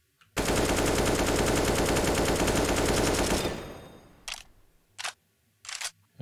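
A weapon in Battlefield 4 fires a sustained automatic burst for about three seconds, loud and close, then falls quiet except for a few short clicks and mechanical reload sounds.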